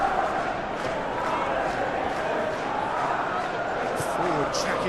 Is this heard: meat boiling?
no